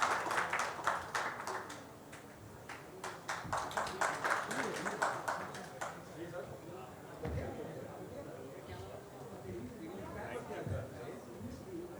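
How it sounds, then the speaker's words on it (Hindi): An audience at a Bihar political conclave stage event claps for an arriving guest, a burst of close, loud applause in the first half that thins into scattered claps, with talk underneath. "जोरदार तालियों के साथ स्वागत कीजिए बिहार की बात के मंच पर श्री मनीष वर्मा"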